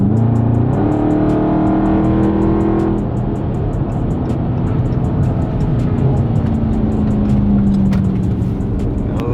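A Dodge Charger 392 Scat Pack accelerates with a steady, loud engine roar that rises in pitch through the gears, heard from inside the car with no talking.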